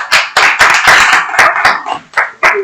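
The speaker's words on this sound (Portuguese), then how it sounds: "Eu gostaria de pedir uma salva de palmas novamente." Close, loud hand clapping from a few people, a series of sharp, uneven claps in quick bursts with brief gaps, ending in a couple of separate claps.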